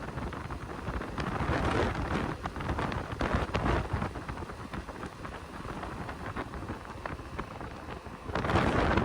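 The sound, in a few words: heavy rain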